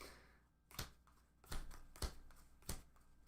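Playing cards shuffled in a quiet room, several crisp riffle bursts in an uneven rhythm, close and faint.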